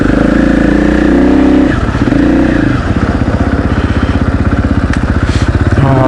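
A KTM 500 EXC-F dirt bike engine revs loud and close, a harsh, rapidly pulsing four-stroke bark that dips briefly and then holds a steady, throbbing idle-to-mid rev.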